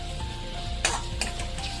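Onions frying in a pan as a ground green chili, ginger and garlic paste is added: a steady close sizzle with a couple of brief clinks and stirring scrapes, no talking.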